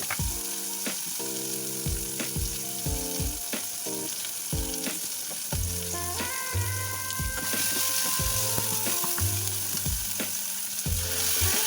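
Turmeric, roasted cumin and coriander powder paste frying in a pan for a taro (maan kochu) dish, hissing steadily under repeated knocks and scrapes of a spoon stirring, close and busy throughout.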